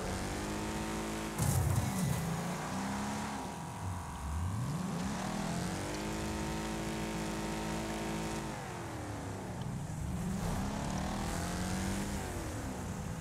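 A badly wrecked car drives in the racing game Wreckfest, its engine revving hard and climbing through gears, dropping off and winding up again in repeated surges, loud and constant throughout.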